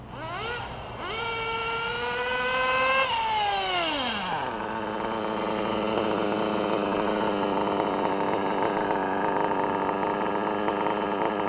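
A Nova P5 limited edition chainsaw, suspected of a bad clutch spring, revs high and winds down, then settles into a steady, close idle that runs slightly high, alone with no talk.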